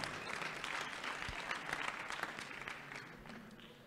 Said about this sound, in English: A big lot of applause, ladies and gentlemen